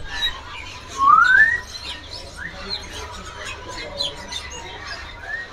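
Caged songbirds call at an Indonesian bird market, among them a green leafbird. One loud, rising whistled note stands out early, followed by scattered fainter chirps and tweets over low background noise.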